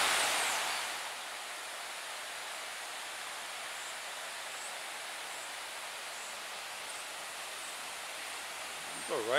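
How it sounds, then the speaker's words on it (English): Steady broadband rush of flowing water, like a creek running over rocks, continuous and fairly close, with a brief disturbance at the very end. "Listen to the sound of the water."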